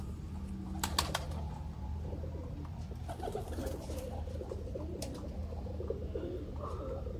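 Sialkoti pigeons coo softly in the background under faint clicks and rustling, quiet and somewhat distant.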